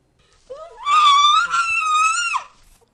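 A child screams in pain in one long, loud, wavering cry lasting about two seconds, close and alone.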